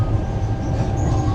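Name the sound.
second class train running through Italian countryside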